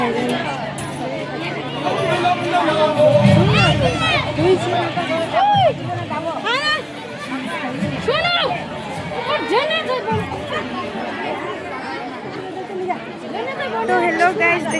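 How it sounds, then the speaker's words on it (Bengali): Large crowd chattering at a big event at a Ram temple, a dense babble of many voices with occasional footsteps and clinks, steady and continuous throughout. "দেখো এখানে কত বড় প্রোগ্রাম হচ্ছে"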